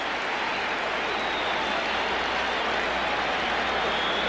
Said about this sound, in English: Now they're cheering Hipple.